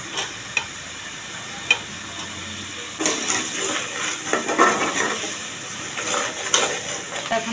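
Prawns fry in spice paste, a soft sizzle with a few scrapes and then busier stirring and louder crackling frying from about the midpoint onward, with no talk.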